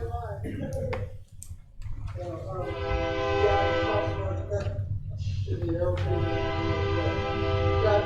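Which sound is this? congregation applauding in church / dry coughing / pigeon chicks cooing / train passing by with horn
train passing by with horn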